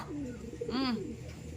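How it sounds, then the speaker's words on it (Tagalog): A single soft coo from a racing pigeon, faint against quiet background noise. "Live yung ibon natin"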